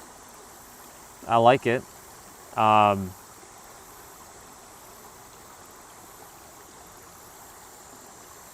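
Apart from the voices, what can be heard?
flowing stream water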